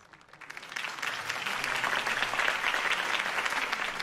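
Crowd applause from a Batman Telltale video game, following a campaign speech in the city. Broadband clapping builds over the first second and then holds steady and dense, with no talk over it.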